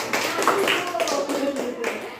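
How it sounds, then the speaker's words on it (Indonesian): Elementary schoolchildren in a classroom clapping for a group that has just performed, a short burst of many small hands clapping unevenly, mixed with voices. "Tepuk tangan dulu buat kelompok."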